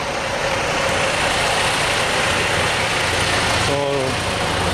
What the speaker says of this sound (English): these are the trucks that we drive